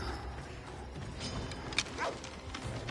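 A dog barks in Assassin's Creed Odyssey, a few short barks at mid-distance over steady game ambience, with no talking.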